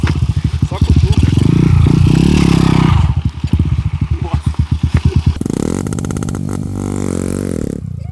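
A bicycle fitted with a motorcycle engine revs hard with a low, deep exhaust, then settles into a steady throttled drone while riding, with clattering and occasional speech nearby.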